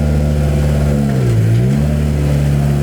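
A Kessel Racing Ferrari 488 GTE race car idles loudly nearby and pulls away, its steady droning engine note dipping in pitch briefly mid-way before settling back, with no voices over it.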